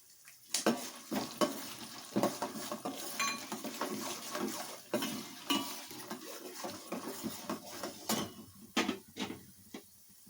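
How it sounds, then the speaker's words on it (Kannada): Green chillies fry and are stirred in a pan for Melukote-style puliyogare, with a spoon scraping and clinking against the metal over a soft sizzle, close and fairly quiet. "ಮೆಣಸಿನ್ಕಾಯಿ ತಗೊಂಡು ಅದು ಕೂಡ ಇದಕ್ಕೆ ಹಾಕ್ಕೊಳ್ತಾ ಇದ್ದೀನಿ."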